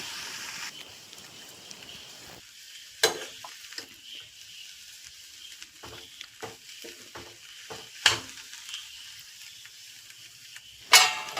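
A banana flower pathrode mixture is stirred in a pan, with a quiet frying hiss broken by irregular scrapes and three louder clacks of the utensil against the pan.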